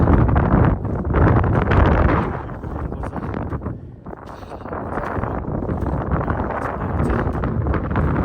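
Strong wind buffets a mountain ridge in Mustang, Nepal, a loud, continuous roar that dips briefly midway before surging back, with rumbling gusts dominating the low end and no voices.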